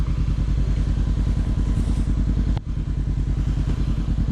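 A Honda CB500F motorcycle idles close by at an airfield, its steady, throbbing parallel-twin rumble continuing throughout, broken by one brief thump and dip partway through.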